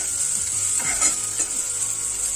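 Chopped onion fries in oil with a bay leaf and cumin, a constant bright hiss nearby with a couple of soft stirring strokes, no one speaking.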